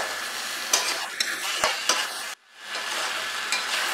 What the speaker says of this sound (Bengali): 3-4 মিনিট আমি এটাকে কষিয়ে নিলাম হাই ফ্লেমে।